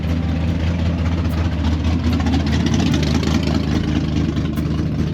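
A Camaro's engine idles at a drive-by car show, a steady low rumble holding at an even level throughout with no breaks, close and fairly loud.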